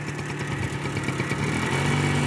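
A motorcycle engine runs close by during a riding lesson, its mid-pitched drone holding steady and then swelling slightly louder as the throttle is raised.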